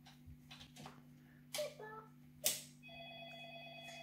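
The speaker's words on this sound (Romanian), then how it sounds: "Telefonul." A telephone ringing among the fairground crowd, heard as short electronic ring tones near the end under a voice and background noise.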